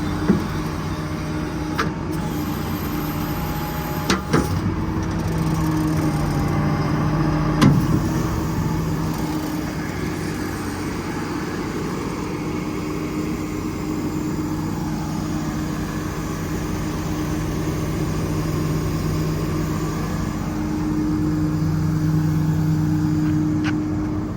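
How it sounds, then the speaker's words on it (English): A 2018 International 4400 service truck with a Cummins diesel idles steadily with the PTO engaged and the idle raised by cruise control, a constant close drone with a few faint clicks and no talk. "PTO is on, the cruise control is idled up."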